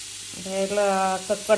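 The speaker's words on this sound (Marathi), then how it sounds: "आता एवढी फोडणीला टाकायचं आणि ह्याच्यात एक 4 पानं टाकायचं" Curry leaves dropped into hot tempering oil for a broad bean and potato curry, a short burst of sizzling with some tonal steam-like hiss, close and moderate in level.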